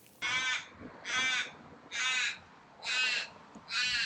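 A crow cawing five times in an even rhythm, each caw harsh and roughly half a second long, heard from a moderate distance over faint outdoor background noise on a fishing outing.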